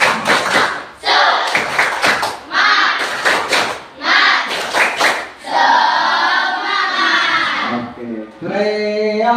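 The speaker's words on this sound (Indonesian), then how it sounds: "Tepuk semangat!" A school class does a rhythmic spirit clap in bursts of group clapping and thumping, then breaks into loud chanting voices.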